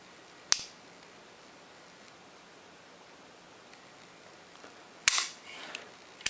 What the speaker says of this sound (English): Let me try it on the tip of the trigger.